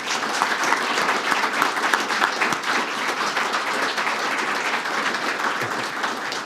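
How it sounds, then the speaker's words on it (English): Audience applause at a centre's official opening, a dense, steady clapping from a crowd that holds evenly throughout, fairly close and without talk. "we should welcome you with a round of applause"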